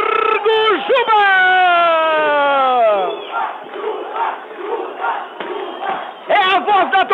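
A football crowd roars in the stadium during the 2012 Gauchão quarter-final between Novo Hamburgo and Lajeadense. A long, loud shouted voice rides over the crowd noise before it spreads into a diffuse, steady roar, and the shouting returns at the end.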